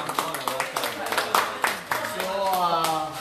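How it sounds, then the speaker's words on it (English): An audience at a guitar workshop's violin unveiling claps in a brief scattered burst, while a voice talks over and after the clapping. "Clap!"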